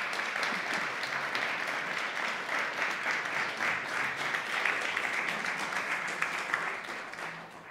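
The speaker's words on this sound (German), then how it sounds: "Herzlichen Glückwunsch noch einmal und einen großen Applaus bitte für Maximilian." Sustained audience applause fills a hall at an award ceremony, dense steady clapping from many hands, loud and continuous before easing slightly at the end, with no talking over it.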